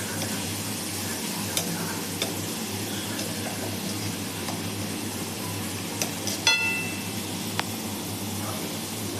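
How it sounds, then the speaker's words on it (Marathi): Chopped onion sautéing in butter for pav bhaji gives a steady close sizzle under occasional stirring scrapes and a few sharp spatula clinks near the end, with no voices. "कांदा चांगला परतून घ्यायचा."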